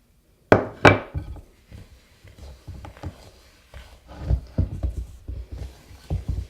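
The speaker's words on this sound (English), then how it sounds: "And then add the sugar and mix even harder until it looks pale and fluffy." Butter and sugar are beaten hard in a bowl, making a close series of irregular dull thumps and knocks as the spoon strikes, with two louder knocks at the start.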